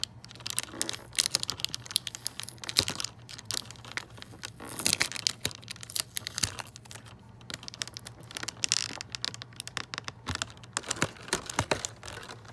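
Tape peeling and crinkling packaging during the unboxing of a NECA GameStop exclusive Teenage Mutant Ninja Turtles Michelangelo figure with a taped-in bandana accessory, a close run of sharp irregular rips and crackles with a steady low hum beneath.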